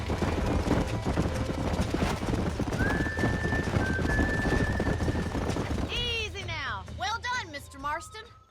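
Horse hooves in the video game Red Dead Redemption: rapid rhythmic clip-clop over a constant background, with loud neighing and whinnying bursts near the end.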